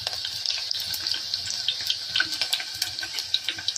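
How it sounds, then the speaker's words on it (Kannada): Chopped onions sizzle in hot oil in a pan, a steady bright hiss with scattered crackles and pops, close and continuous with no voices. "ನೋಡಿ, ಎಣ್ಣೆ ಕಾದಿದೆ. ನಾವು ಫಸ್ಟು ಈರುಳ್ಳಿ ಹಾಕ್ಕೋಬೇಕು."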